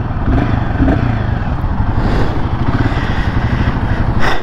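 A Royal Enfield Himalayan 450 motorcycle engine rumbles steadily up close with a low throbbing idle, rising briefly into a rev near the end.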